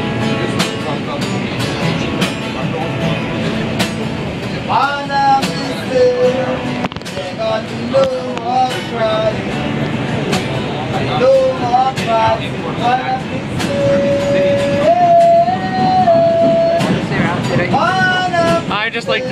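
A Manhattan-bound R142 subway train rumbles along with continuous loud track noise and rising and falling motor whines, while people talk over it.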